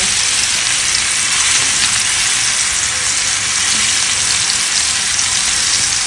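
Marinated fish frying in hot oil, a steady, dense sizzle that holds evenly from start to finish with no voices over it.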